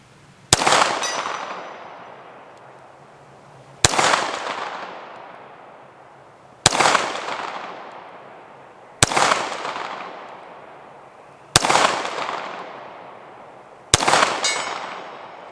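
Six sharp Browning Hi Power pistol shots fired at a 100-yard target on an outdoor range, spaced a few seconds apart, each a loud crack followed by a long decaying echo.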